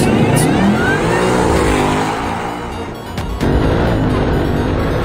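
A Roush supercharged 2024 Mustang on bias-ply tires with a stock front end at Milan Dragway gives a loud, sustained engine roar that briefly dips and then surges again as it runs down the strip.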